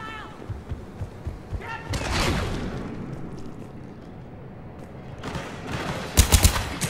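Rapid bursts of gunfire and heavy thuds from a video game battle, a sustained rumble in the middle and a sharp cluster of shots near the end, with a voice talking over it.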